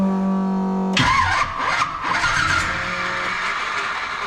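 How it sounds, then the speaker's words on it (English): A 1957 Chevy engine, cranking slowly on its starter in a garage, catches and fires up, then settles into a loud, steady running rumble, with no voices. "you'll hear the difference in the starting right now"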